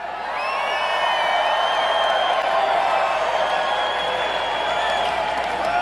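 Dense rally crowd at a Donald Trump campaign event in Everett, Washington, cheering, whooping and applauding steadily and loudly, a continuous roar of voices and clapping with no single speaker standing out.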